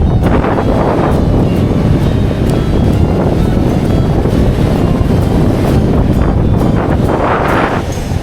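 Strong, steady wind roaring across the microphone, loud and continuous throughout with gusty buffeting and no voices.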